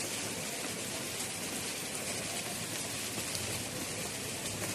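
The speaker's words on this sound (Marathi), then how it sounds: "झिमझिम झिमझिम सारखा पाऊस चालू झाला आहे." Light drizzling rain falls steadily at the onset of the rainy season, a soft, even patter of drops that stays faint and unbroken throughout, with no voices.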